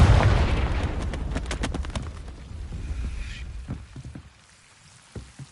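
A Confringo blasting spell exploding in the Hogwarts video game: a loud burst up front, then a crackling scatter of debris and sharp pops that fades to near quiet, with a last small crack.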